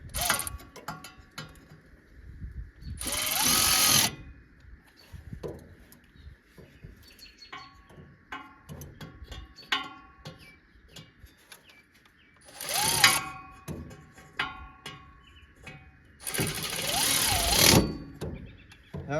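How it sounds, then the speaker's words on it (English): An old Milwaukee cordless ratchet runs in loud whirring bursts, repeated several times with quieter mechanical clatter and a faint background hum between them. "If I can find the trigger for the old Milwaukee ratchet."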